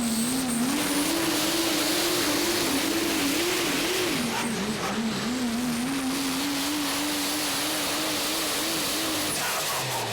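A diesel drag-racing truck holds a loud, sustained engine roar for the whole stretch, the pitch wavering slightly as it is pushed hard, with a sharp cutoff right at the end.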